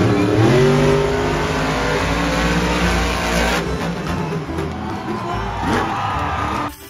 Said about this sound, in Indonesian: Ada mobil monster.